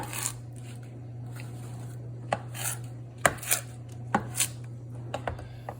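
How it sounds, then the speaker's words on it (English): Knife cross-cutting collard green leaves on a cutting board, a few sharp scattered chops and taps over a steady low hum. "Then just make cross cuts."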